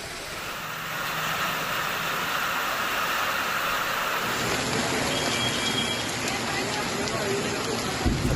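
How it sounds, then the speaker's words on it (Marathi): Heavy monsoon rain in Solapur district, a dense continuous roar of falling water with passing traffic rumbling underneath, steady and fairly loud throughout. "अगदी सकाळपासूनच जिल्ह्यात मुसळधार पाऊस पाहायला मिळतोय"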